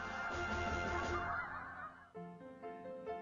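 A flock of geese honking together, many overlapping calls forming a loud, continuous clamor that thins into sparser, separate honks toward the end.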